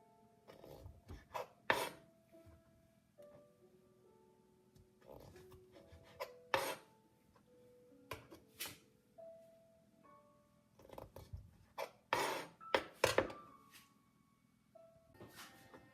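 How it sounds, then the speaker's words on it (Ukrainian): A knife slices fresh cherries in half on a cutting board, giving a series of short, close, crisp cuts and taps in an irregular rhythm with quiet gaps between them. "Беремо черешню, ріжемо на дві половинки."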